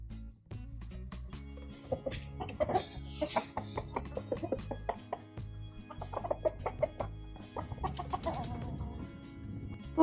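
Chickens around a village vegetable garden give repeated clucks and short calls in uneven bursts, fairly close and clear over a quiet outdoor background.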